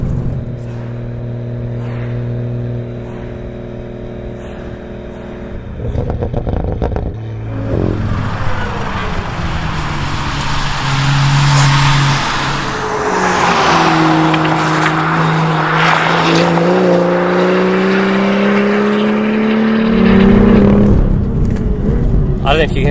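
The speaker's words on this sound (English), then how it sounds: "we've got the Eventuri intake on it as well, and it just makes some fantastic noises." A BMW M2 GTS fitted with an Eventuri intake and ceramic brakes drives on a race track, the engine droning and revving through gear changes, loud and close throughout, with someone talking over it in the first seconds.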